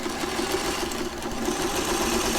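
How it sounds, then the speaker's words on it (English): A sewing machine stitches together background fabric and quilt pieces, running as a steady, even whir and rapid mechanical hum that stays at a constant loud level with no talking. "let's hope the sewing machine will"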